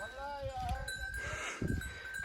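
Sheep bleat close by amid the shuffling of a flock on a highland pasture, with faint bell-like tinkling and some talking mixed in.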